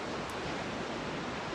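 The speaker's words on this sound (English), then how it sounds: "where's this wind coming from? But it's a westerly" A westerly wind blows outdoors as one steady, dense rush of noise buffeting the microphone, constant in loudness with no pauses and no voices.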